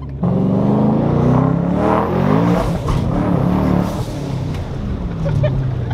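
A loud, close twin-turbo Mustang engine revving and spinning in repeated rising and falling sweeps, with occasional voices underneath.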